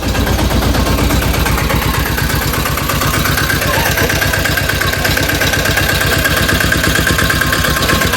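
A motorcycle engine idles steadily and loudly close by, a continuous rapid low thumping with no pauses throughout.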